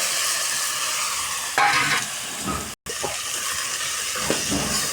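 Drumstick (moringa) pieces and tomato pieces sizzle in a pan while being stirred, a steady close hiss of frying broken by scraping stirring sounds and a brief drop-out.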